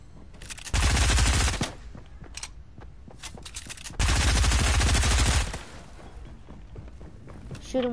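Two long bursts of rapid automatic gunfire in a shooter video game, loud and close, each lasting about a second, separated by quieter game sounds and faint clicks.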